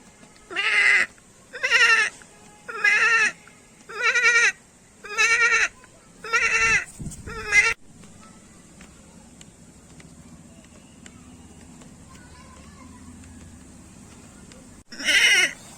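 A goat named Chandni, led by Ramu Kaka toward the forest from an Indian village, lets out seven loud, evenly spaced bleats, then a quieter stretch of low background sound before one more bleat at the end.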